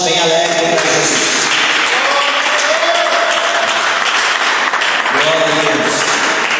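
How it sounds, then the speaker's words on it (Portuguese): A church congregation claps joyfully during a worship service, loud and continuous, with voices and music-like tones running through the clapping. "As palmas bem alegres para Jesus"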